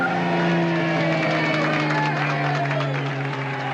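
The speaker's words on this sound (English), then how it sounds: "The first car through is the Thunderbird driven by Duke Benson." Race cars, including a Thunderbird, roar past on a downtown Reno street under the arch, engines loud and continuous with pitch sliding down as they pass, and faint crowd noise beneath.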